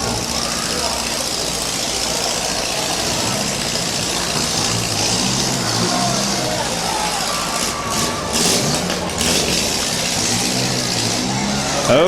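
A sluggish demolition derby car engine rumbles loudly and steadily at an outdoor county derby, blending with other engines and crowd noise in a constant dense roar, with a commentator talking over it.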